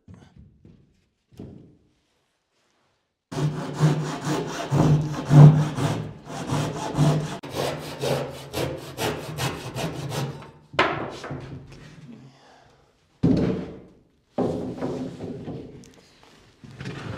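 A handsaw cuts wood to trim it in a storage barn, first as a long run of rhythmic back-and-forth rasping strokes, then as a few shorter bursts of sawing separated by silences.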